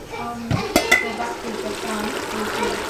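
Tomato paste sizzling as it's sautéed in a pan for beef caldereta, with a steady low frying hiss, a few sharp clinks of a spoon against the pan near the start, and faint background murmur.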